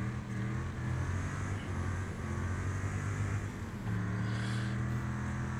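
Car engine in the Wreckfest racing game held at a steady high drone with harmonic bands, shifting pitch slightly as the car slides sideways, continuous and close with no talk.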